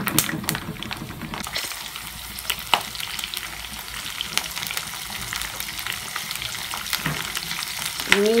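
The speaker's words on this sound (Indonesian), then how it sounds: "Kita akan tumis bumbunya dulu ya," A chili and shrimp spice paste for sambal sautés in hot oil, giving a continuous close sizzle and crackle with occasional stirring scrapes throughout.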